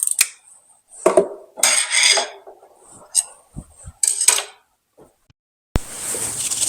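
Metal nuts and bolts being rummaged through, a scatter of close, uneven clinks and rattles in short bursts separated by quiet pauses, ending with a louder sustained clatter.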